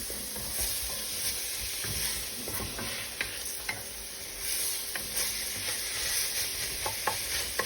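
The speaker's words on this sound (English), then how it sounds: "So yeah, hot Italian sausage. Cook that down a little bit." Hot Italian sausage sizzling in its own oil in a pan, a steady frying hiss with occasional scrapes and light clicks of stirring, no voices.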